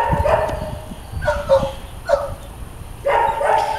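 A dog barks in a series of short, sharp barks, about four or five spaced bursts with a whimpering edge, close by and fairly loud over a quiet background.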